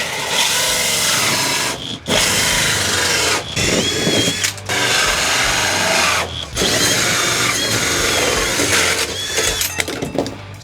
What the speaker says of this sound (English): drill some big holes